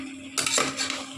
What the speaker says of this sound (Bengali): আবার এখন আমরা ভালো করে এটাকে নাড়া দেবো অল্প অল্প করে